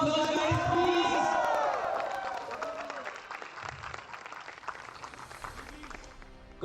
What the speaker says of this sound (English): So give her a big shout out of applause, guys, please.